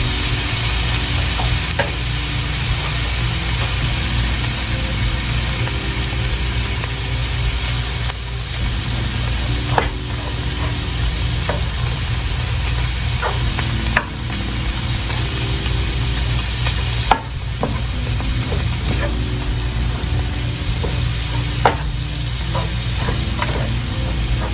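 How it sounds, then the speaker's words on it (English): Ground meat with chopped jalapenos and yellow onion fries loudly in a pan, a dense continuous sizzle broken by repeated scrapes and clicks from stirring, with no voices. "We're gonna brown this meat until it is all brown."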